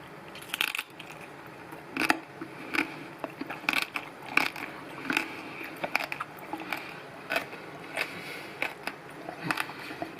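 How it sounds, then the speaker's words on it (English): Crisp, crunchy bites into pork belly crackling, chewing crackling in irregular bursts, close and fairly loud, with brief pauses between crunches. "that crackling is so, it's so crunchy"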